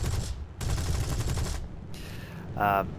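Aircraft machine guns in War Thunder fire in two loud sustained bursts during a ground attack run, separated by short gaps, with a brief engine roar near the end.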